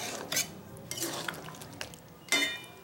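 Chicken kasha with tomato sauce stirred in a pan, soft scraping and a few light clinks of a spoon against metal, close but quiet over a faint background hiss.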